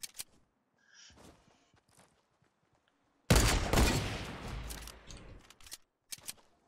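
Gunfire in Fortnite Battle Royale: a few faint scattered shots at first, then a sudden loud burst of rapid firing that decays over a couple of seconds, followed by sparse quieter shots.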